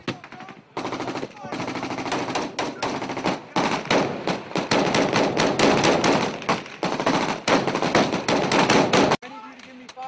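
Airsoft guns fire in an outdoor team game, long rapid bursts and scattered single shots rattling almost continuously, with players shouting over the shooting.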